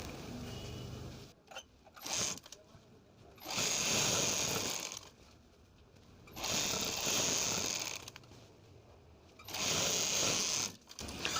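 A sewing machine stitches suit fabric in three loud, steady runs of about two seconds each, separated by quieter pauses with light handling noise.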